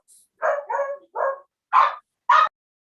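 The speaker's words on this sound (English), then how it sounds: "Who's barking?" A dog barks five times in short, sharp bursts, three close together and then two more after a pause, loud and close with no talking.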